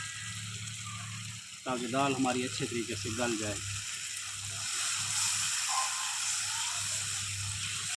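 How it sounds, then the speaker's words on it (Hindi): Water is added to chana dal frying in masala, raising a steady hiss and sizzle that continues after the splash, close and moderately loud, with someone speaking briefly over the cooking early on. "अब थोड़ा सा पानी शामिल कर लेंगे"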